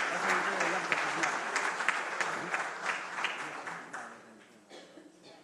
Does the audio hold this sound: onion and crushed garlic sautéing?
no